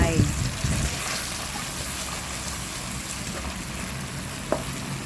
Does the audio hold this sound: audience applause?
no